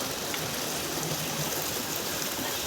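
Floodwater rushing into a village makes a steady, dense roar of flowing water, continuous and even throughout with no voices.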